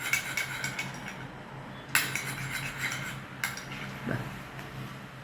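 A spoon stirs and scrapes oil into a thick homemade massage cream in a bowl, with soft clinks and a couple of sharper knocks against the rim, close and fairly quiet.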